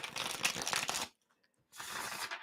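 Tarot cards being shuffled by hand with long nails, two bursts of dense riffling close to the mic separated by a brief silent pause.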